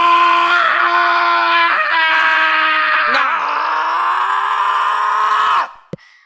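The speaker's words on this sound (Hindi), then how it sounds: "अपनी बॉडी से अपनी पूरी एनर्जी को रिलीज़ करते हुए पागलों की तरह चिल्लाते हुए कहता है" A man screams wildly as he releases all his energy, one loud, sustained, strained cry that wavers in pitch for several seconds before cutting off abruptly, followed by a brief click.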